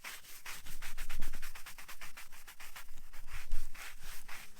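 A soft bristle brush scrubs a gravestone in quick, regular back-and-forth strokes, a close, dry rasping rhythm with no one talking.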